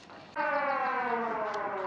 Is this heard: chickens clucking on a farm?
no